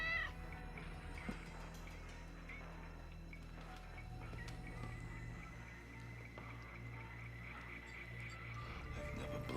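Cat meowing in a 1990 horror anthology film scene, heard over a steady low music and ambience bed, with a brief yowl near the start and further cries later.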